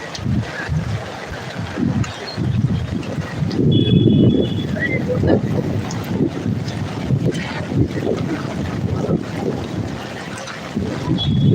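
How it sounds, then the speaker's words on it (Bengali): Heavy monsoon rain and rushing floodwater in Mumbai, heard as a loud, continuous roar of water with buffeting wind noise on the microphone and no clear speech. "খুব জোর বৃষ্টি হচ্ছে আর কি"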